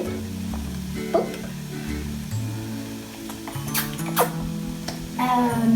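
Curry powder hitting a hot pan while chicken curry cooks, giving a steady frying sizzle with scattered crackles and a few utensil clinks, all close and fairly loud.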